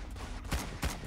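Two quick, punchy blasts from a fully automatic shotgun in the Roblox game Area 51, fired about a third of a second apart over a low background hum.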